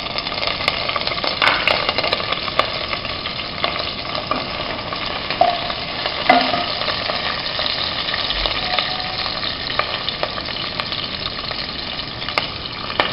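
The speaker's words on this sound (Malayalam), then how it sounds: "അഞ്ച് പച്ചമുളക് നീളത്തിലരിഞ്ഞത് അതിലേക്ക് ഇടുക." Five green chillies, sliced lengthwise, sizzle in hot oil for a Kerala-style fish molee: a steady, close crackling fry with occasional stirring scrapes and a faint background hum, with no voices.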